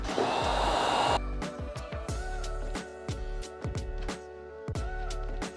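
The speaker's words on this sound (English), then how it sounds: "Grab your heat gun and just apply a little bit of heat around this area with the low setting." A heat gun on its low setting warms tint film on a 2023–2025 Kia Niro headlight, giving a steady close blowing hiss for about a second before it cuts off, followed by a series of sharp clicks and taps.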